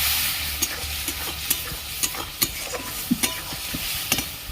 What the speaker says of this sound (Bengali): সামান্য একটু জল দিয়ে দিচ্ছি ভালো করে কষিয়ে নেবো